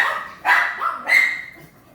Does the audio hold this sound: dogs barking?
yes